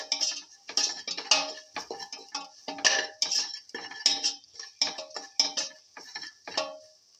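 A metal spoon stirs salt into a pot of tomato and fenugreek leaf rice, giving repeated close clinks and scrapes against the vessel in an uneven rhythm, with no one talking.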